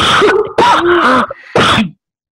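Three harsh, loud coughs close to the mic, the middle one drawn out with a throaty rasp, then silence.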